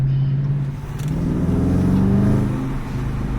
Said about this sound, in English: Got a big baby back V8.